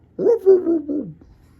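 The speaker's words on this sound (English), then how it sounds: "There's a dog down there." A dog gives a short series of whimpering, whining yelps close by, a few quick vocal bursts in about a second.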